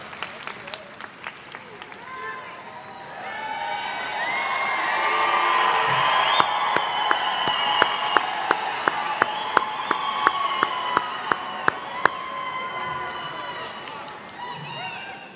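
Graduation ceremony crowd in a large arena applauding and cheering, with whoops and shouts rising over a steady wash of clapping, plus sharp bursts of camera flashes or clicks; voices mingle throughout.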